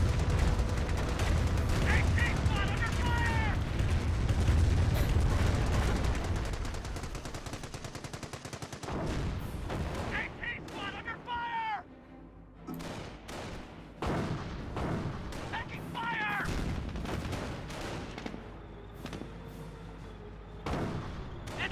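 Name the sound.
Calliope rocket barrage in video game Company of Heroes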